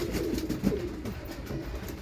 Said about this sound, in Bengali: এই যে পায়রা সেটটা দেখে নাও।